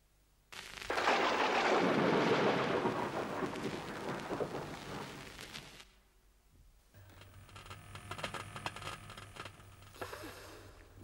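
Loud thunderstorm with a heavy, rolling thunder rumble and pouring rain through the first half, easing to a quieter stretch of steady rain and distant rumbling, with no voices.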